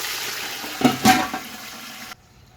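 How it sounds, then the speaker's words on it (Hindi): Water splashes into a pot of browned onions for brown yakhni pulao, a brief gush rising over about a second and then cutting off, close and alone. "हम इसमें थोड़ा पानी डालकर ढक्कन दे देते हैं।"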